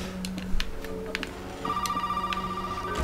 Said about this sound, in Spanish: me están llamando por teléfono